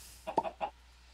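A Minecraft chicken in the Sky Factory 3 modpack gives three quick, short clucks that are faint and nearby, with no other sound around them.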